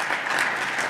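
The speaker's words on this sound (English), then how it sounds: "I don't know if we could give him another round of applause with our small group" A small group at a discussion event applauding, a brief, even patter of clapping heard alone at moderate level.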